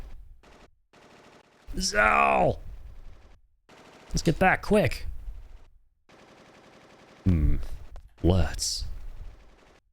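Bursts of gunfire ring out in Final Fantasy 8, rapid crackling volleys in several loud clusters, alternating with game character voices that speak between and over the shooting.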